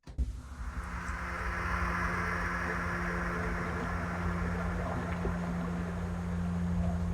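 A soft, sustained synth pad with a bubbling, washing texture and a low steady drone, swelling in at the start and continuing evenly.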